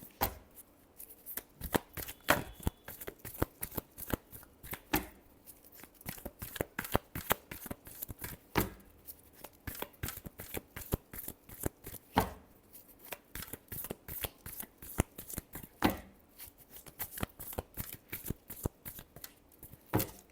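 Tarot cards are shuffled by hand at close range, a long run of crisp, rapid riffling and flicking bursts with brief pauses between, no voices over it.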